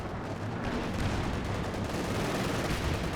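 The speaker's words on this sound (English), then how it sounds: "AT guns firing away" Anti-tank guns firing during a Company of Heroes 2 battle, a continuous dense roar of gunfire and blasts at steady loudness throughout.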